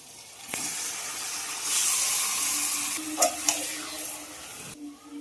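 Marinated chicken pieces go into a pan of fried onion and tomato, setting off a loud close sizzle and steady hiss with a few scraping stirs, dying down at the end.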